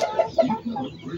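A rooster in a breeding pen gives a few close, throaty clucks in quick succession, a short bout of fowl vocalizing with no other voices.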